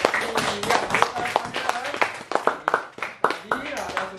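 A classroom of students claps for a classmate, a string of uneven hand claps and light applause with talking mixed in.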